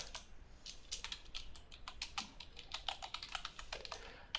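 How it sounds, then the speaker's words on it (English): Someone types on a computer keyboard, producing a quiet, rapid run of light key clicks in uneven bursts, close and alone without talking. "And I'll just type Adam and Sons."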